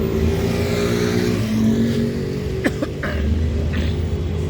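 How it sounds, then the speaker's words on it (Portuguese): Traffic on a city street at night: a steady, close hum of car engines with one vehicle passing and revving, and a brief cough partway through. "Você está ouvindo aí barulho de carros?"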